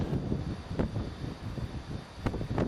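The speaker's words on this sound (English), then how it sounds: "Quite a bit of wind on this rock." Strong gusty wind buffets an outdoor microphone on an exposed rock above a valley, a steady low rumbling roar with louder gusts swelling and fading throughout, no voices.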